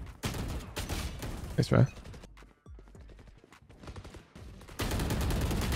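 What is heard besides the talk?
sniper gunfire in video game Valorant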